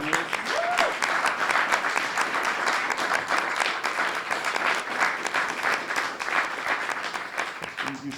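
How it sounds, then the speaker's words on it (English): Audience applause for panelists at an arts event, sustained, even crowd clapping throughout, with a brief voice at the start and end. "I want to give a big round of applause to our panelists."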